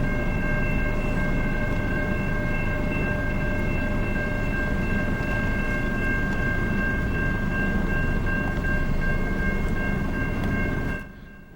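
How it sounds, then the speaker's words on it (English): A long freight train rumbles past close by, a steady heavy roar with a sustained ringing whine over it that drops away abruptly near the end. "this was a super long train"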